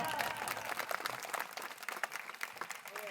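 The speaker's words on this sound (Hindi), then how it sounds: "तालियां बजाओ" Audience applause at a political speech, a dense steady patter of many hands clapping throughout with a voice faintly mixed in.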